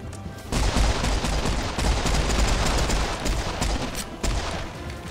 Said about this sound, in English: I'm just gonna shoot wildly and hope for the best.